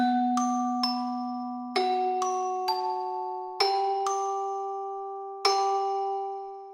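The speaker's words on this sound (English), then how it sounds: "and this keyboard sound." A bell-like electric keyboard plays a sparse melody of struck notes, each ringing out and slowly decaying, with no voices.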